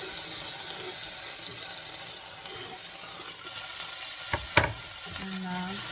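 Ridge gourd tipped into hot oil with fried green chilies, a loud, steady sizzle swelling near the end with a couple of sharp clanks of a utensil.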